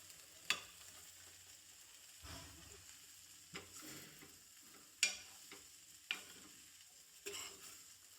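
Food for batata poha frying in a pan while being stirred and mixed, with soft low sizzling and several sharp spoon clinks and scrapes spaced a second or two apart, no voices.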